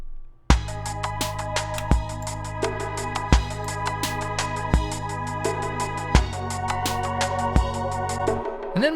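Synth pad shaped with the Big Beautiful Door EQ, sitting in a mix under regular punchy kick hits and busy high percussion, a sustained low chord bed changing every couple of seconds, full and upfront.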